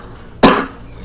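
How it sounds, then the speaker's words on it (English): A single sharp cough bursts out close and loud, a brief explosive hack that decays quickly into quiet, with no talking around it. "I have a pretty bad cough"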